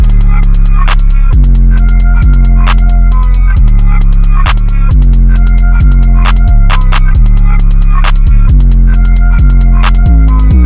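A rap beat plays back on GarageBand for iOS, with loud, continuous booming bass hits and a repeating high bell-like synth melody. Crisp, steady hi-hat ticks run through the whole beat, and there are no vocals.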